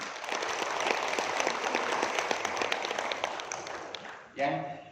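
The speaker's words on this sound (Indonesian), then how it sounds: "Tepuk tangan." An audience of teachers at an Indonesian school training opening ceremony claps together in a steady crowd applause that fades out, followed by a brief spoken voice.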